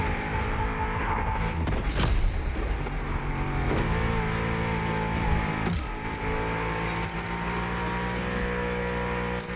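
A Porsche racing engine in The Crew Motorfest runs loud and steady at high revs, with a few shifts and surges, racing against muscle cars with no talk.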